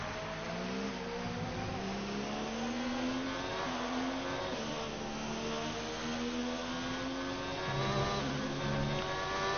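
Formula 1 race car engines in a racing game scream through rising and falling gear changes, a dense, continuous high-pitched whine heard close and steady throughout.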